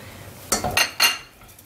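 Double cream being stirred into a béchamel-based soubise sauce in a pan, with a few utensil scrapes and clinks against the metal over about a second, fairly close, no talking.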